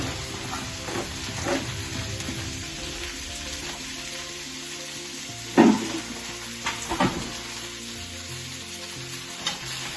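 Drumstick leaves cook uncovered in a pan with a continuous crackling sizzle, while a spatula stirs with periodic scrapes and a couple of louder knocks against the pan.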